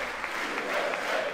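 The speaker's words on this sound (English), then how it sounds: "everyone clapping for like 5 minutes" An audience applauding during a State of the Union address, a steady wash of clapping heard from a distance, sustained throughout.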